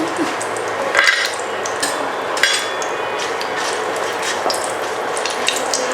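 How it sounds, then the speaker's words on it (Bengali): Two bay leaves and cinnamon frying in oil in a pan for a raw banana kofta malai curry, giving a steady, loud sizzling hiss with a couple of sharp clinks from the utensil. "এখন হচ্ছে আমি তেজপাতা 2 পিস আর হচ্ছে দারচিনি দিয়ে দিচ্ছি।"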